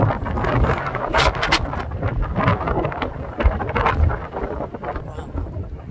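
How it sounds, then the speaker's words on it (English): Strong outdoor wind buffets the microphone in loud, continuous gusts across an open field where flags are flying, with rumbling low-end blasts and no talking. "the wind has calmed down a little bit more"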